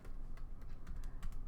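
Fingers typing on a computer keyboard, a quick irregular run of soft, close key clicks with no voices.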